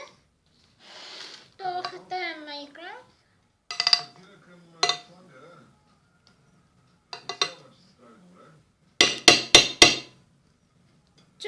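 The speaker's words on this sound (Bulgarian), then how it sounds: "Чука някой." Knocking on a door at home, a quick cluster of sharp raps near the end, with a child and an adult talking and light kitchen clatter earlier.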